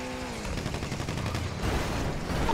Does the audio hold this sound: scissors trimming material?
no